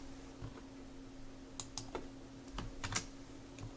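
Keystrokes on a computer keyboard while entering a constant into a spreadsheet cell: a sparse, irregular handful of light clicks over a steady low hum, fairly close and quiet.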